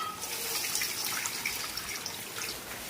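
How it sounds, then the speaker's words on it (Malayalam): Water is poured from a glass into a pot, eight glassfuls in all, ready for cooking rice; a steady close splashing and trickling stream runs alone throughout. "അപ്പൊ അതിലേക്ക് ഒരു 8 ഗ്ലാസ് വെള്ളം ഒഴിക്കുകയാണ്"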